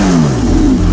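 A Porsche 918 Spider's 4.6-liter V8 hybrid engine revs hard and loud up close, a deep throaty roar with the pitch sweeping upward and dipping briefly.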